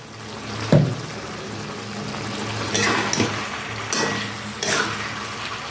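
Chicken pieces being stir-fried with salt in a pan, a soft steady sizzle with a few scraping stirs and clinks of a utensil at intervals, no voices.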